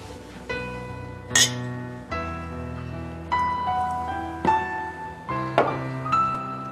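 Glasses clink together in a toast at a dinner between two women, several bright separate chinks with ringing tones spaced a second or so apart, close and clear with no talk.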